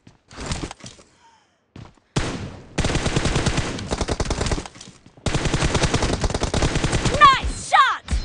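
Gunfire in the mobile shooter game BGMI comes in loud, rapid automatic bursts during a team deathmatch, with sharp electronic chirps near the end.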